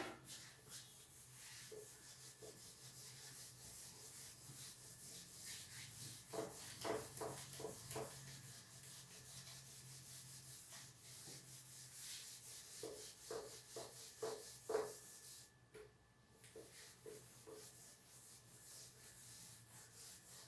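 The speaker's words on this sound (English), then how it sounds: "Let's clear the board" A duster rubs across a classroom board, producing a continuous soft scrubbing sound in uneven bursts of strokes, close and quiet, with no talk.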